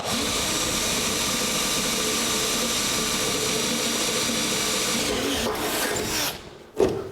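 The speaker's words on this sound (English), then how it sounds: "And now we'll drill the hole out to the size of our 1/4 inch bolt." A steady, continuous drilling whine runs for several seconds, close and loud, as a 1/4 inch bolt hole is drilled in metal, then cuts off with a short clatter at the end.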